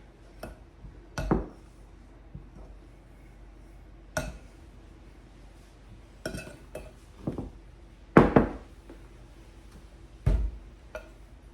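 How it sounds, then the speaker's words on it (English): A utensil cuts a mixture down into flour in a bowl, making scattered sharp clinks and scraping knocks against the bowl at an irregular pace, with quiet gaps between strokes. "I'm just going to start cutting this down into this flour."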